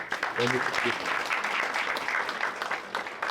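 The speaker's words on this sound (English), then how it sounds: "please give her a round of applause" Audience applause at a presidential portrait unveiling ceremony, a broad steady wash of clapping across the room with brief voices or low tones near the start.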